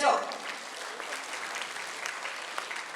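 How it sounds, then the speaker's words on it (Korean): Audience at an award ceremony applauds to welcome a presenter to the stage, a steady wash of moderate clapping from the hall that holds evenly throughout. "여러분 박수로 맞이해 주시죠"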